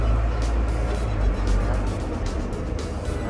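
A Komatsu 510 wheel loader's diesel engine rumbles steadily in first gear, loud and close, with someone talking over it.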